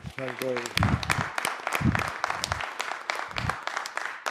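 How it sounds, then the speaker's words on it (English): Applause fills a city council meeting room for a departing council member, a steady patter of clapping from those present, with a voice speaking over it in short bursts. "We have a round of applause."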